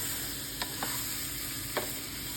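Spices fry in coconut oil with a steady, even sizzle, broken by three soft clicks as a spoon stirs them in the pan.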